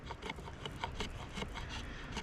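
An axe scrapes wood shavings off a stick for fire lighting, a quiet dry rasping in rapid repeated strokes, close up and steady throughout with no talking.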